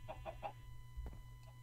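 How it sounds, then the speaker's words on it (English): Minecraft chickens cluck softly in the game: three quick clucks in a row, then a few sparser ones over a low steady hum. "Then I'm going to see if I can get any of these adult chickens in here."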